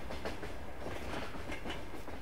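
In Farming Simulator 22, a passing train gives off an even rolling roar with repeated clickety-clack wheel beats, distant-sounding and steady throughout, with no voices.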